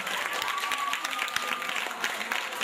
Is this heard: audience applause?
yes